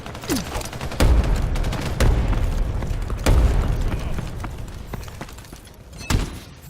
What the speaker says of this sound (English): Using grenade.